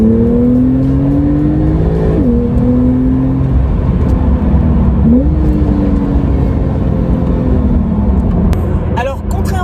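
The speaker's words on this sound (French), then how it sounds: "on entend plutôt bien le son du moteur" Porsche 911 Carrera T, a turbocharged flat-six, droning loudly from inside the cabin at a steady pitch, with two quick gearshift dips in tone and a continuous mechanical hum under road noise.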